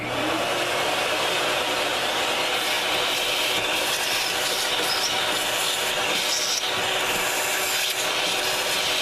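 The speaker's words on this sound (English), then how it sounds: "I want to get the vacuum out and clean away these chips." Shop vacuum cleaner sucking up metal chips around drilled holes during flywheel and oil leak repair on a Briggs & Stratton 625EX engine of a Husqvarna HU625AWD mower, a steady loud rushing drone with scraping rattle, continuous throughout.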